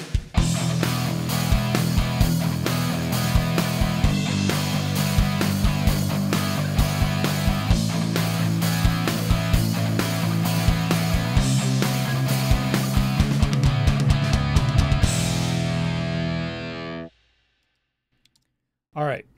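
A single electric guitar plays a driving, distorted riff with steady rhythmic chugging for about fifteen seconds, then rings out into near silence.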